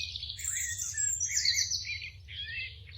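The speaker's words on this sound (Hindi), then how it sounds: "गाकर अपने साथी से संवाद करती है और कभी केवल अपने क्षेत्र की सीमाएं बताने के लिए भी सुर छेड़ती है।" A female northern cardinal singing, a string of clear, bright whistled and chirping notes close by, over a low steady background hum.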